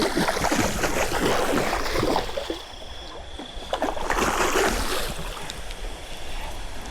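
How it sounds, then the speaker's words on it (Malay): Heavy rain falls at Kolam Repah fishing pond in Tampin, Negeri Sembilan, a loud, close hiss that rises and falls in surges without any talking. "Hujan lebat coy."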